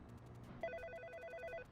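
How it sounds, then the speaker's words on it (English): Telephone ringing inside a Roblox game: a rapid electronic double-tone trill repeating steadily for about a second, loud and clear over a low background hum. "Pick up the phone!"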